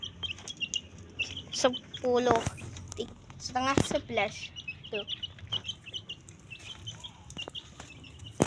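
Pet birds kept at home, a female and a male, give short high chirps repeatedly at feeding time. Lower clucking sounds join in, and a person talks over them.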